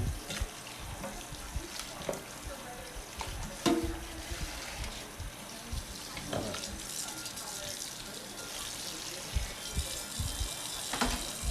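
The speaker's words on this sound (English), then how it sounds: "Just give them a wash through there, and just a nice rinsing" Octopus is rinsed under running water, with a steady, fairly quiet wash of flowing water broken by scattered splashes and handling knocks. There is no clear talking.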